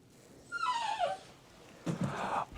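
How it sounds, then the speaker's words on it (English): A small dog whines in the background, a thin, falling whimper followed after a pause by a second, breathier moan, both moderately quiet. "would you like to introduce everyone to the Grinch who's in the background whining right now?"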